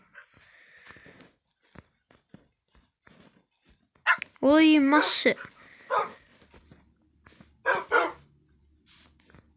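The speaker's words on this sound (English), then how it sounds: "Look at these little dogs." Tamed wolves in Minecraft let out a short burst of barks and a whining yelp, loud and close, while a person chats over the game sounds.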